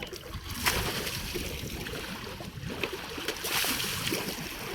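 An elephant splashes into water to soak, making continuous sloshing and splattering with a few stronger surges, close by.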